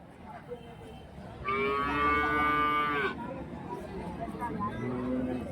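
A large cow at the Karimangalam cattle market, where HF and Jersey dairy cows are sold, lets out one long, loud moo close by, with people chatting and crowd babble around it.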